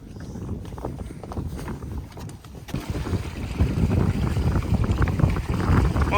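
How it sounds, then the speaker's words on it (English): A pedal boat moves through water with splashing and churning from the paddle wheel, mixed with wind buffeting the microphone, growing louder in the second half, and no one speaks. "opted to get on a pedalo, which I don't think we've ever done before"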